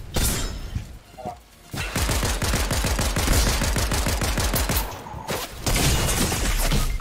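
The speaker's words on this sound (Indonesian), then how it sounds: "Yang ada Excalibur nembakin." Rapid, sharp gunfire from an Excalibur gun in a shooter video game, in pistol-only play. Dense bursts of close shots run for several seconds, pause briefly, then resume.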